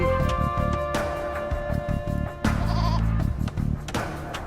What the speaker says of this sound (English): At least I got some goats to eat once the TC's up.